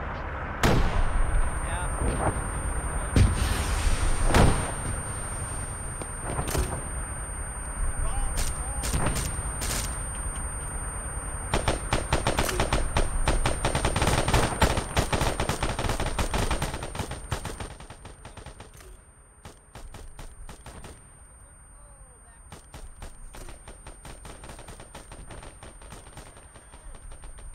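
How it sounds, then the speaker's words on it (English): Dense gunfire from an Arma 3 firefight: repeated sharp shots and bursts of automatic fire crackle loudly for most of the stretch, then thin to a quieter scatter of shots, with brief talk from players now and then. "I'll just shoot where you shoot"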